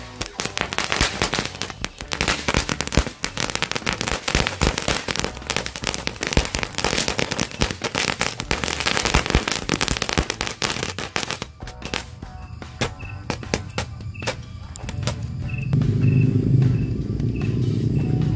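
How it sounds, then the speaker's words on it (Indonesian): A green-lightning firecracker bursts into a dense, rapid crackle of sharp pops that runs continuously for many seconds, then thins to scattered snaps over a low rumble at the end. "Mercon green lighting berhasil menyala bosku"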